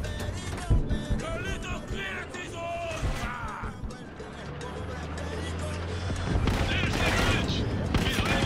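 Gunfire in the video game Far Cry 6, loud bursts and shots mixed with in-game vehicle and crash noise, with a voice talking over much of it.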